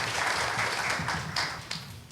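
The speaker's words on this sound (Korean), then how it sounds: "큰 박수로 맞으시기 바랍니다" An audience at a panel debate applauds to welcome the next speaker, a dense wash of clapping at moderate loudness with a few sharper claps standing out near the end. No one speaks.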